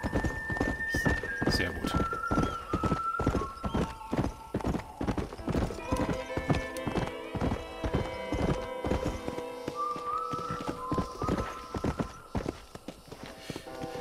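Horse hooves clip-clop in steady rhythm as a horse walks in Red Dead Redemption, close and prominent, with a whinny and tonal game music layered over it and someone speaking briefly.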